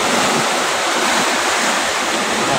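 Big surf rolls in along Manila Bay at Navotas during a storm, a loud, continuous broadband roar of crashing water, with no voices and no distinct breaks.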